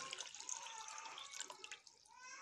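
Water poured into a bucket while preparing lye for homemade laundry bar soap, a steady close splashing and trickling pour lasting a couple of seconds, fairly quiet with no talking.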